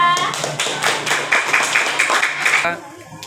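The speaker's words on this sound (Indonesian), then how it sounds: "beri tepuk tangan untuk kelompok 2" Students in an Indonesian classroom clap for a presenting group, a lively burst of hands slapping in quick, uneven beats that stops abruptly, after which a voice begins speaking.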